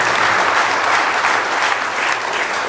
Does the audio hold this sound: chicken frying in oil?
no